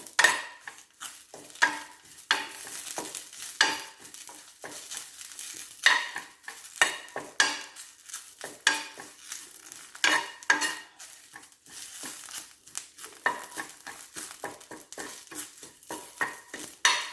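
Curry leaves dry-roasting in a hot pan for homemade sambhar powder, stirred with a utensil that scrapes and clinks in quick irregular strokes over a faint crackle, close and fairly loud with no talking.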